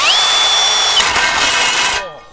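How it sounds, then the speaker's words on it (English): A power drill with a bit bores into the top layer of a DIY skatepark build, giving a steady, loud, high whine for about two seconds before it cuts off abruptly. "So we're just using this drill bit on the top layer."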